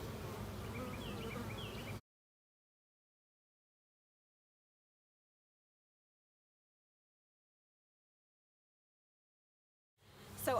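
A close, steady buzz of honeybees around a hive for about two seconds, then sudden silence, with a brief noise returning at the end.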